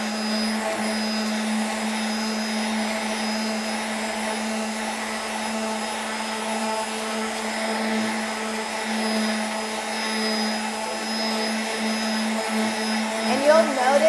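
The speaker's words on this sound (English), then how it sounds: "as you get in higher grit, your sander will just glide" An electric orbital sander works over cured epoxy resin at a high grit, giving a steady, loud whining hum with a constant pitch that holds unbroken from start to finish.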